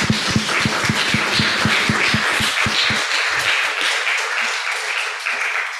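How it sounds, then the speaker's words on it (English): An audience applauds after an art history lecture at an art school, with dense clapping that starts full and thins out to scattered claps by the end. "give Jesse a round of applause"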